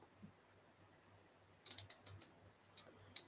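Scissors cutting a new piece of crafting foil, heard as a handful of quick, crisp snips and crinkles up close in two short bursts, following a near-silent pause.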